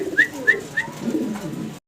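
Fancy Shocking pigeons give a few soft, close coos in quick succession, followed by a low, throaty murmur.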